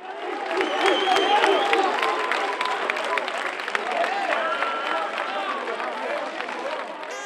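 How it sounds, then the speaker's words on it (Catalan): A crowd in a town square claps and cheers after a poplar tree is planted at a local festival, with loud, busy applause and chattering voices throughout. "els aplaudiments eren el soroll general de la plaça"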